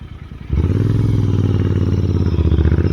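Kawasaki ZX6R sport motorcycle on a group ride, engine note jumping from a low idle to a loud, steady, rasping drone with gritty rattle, close and continuous, partly mixed with wind noise.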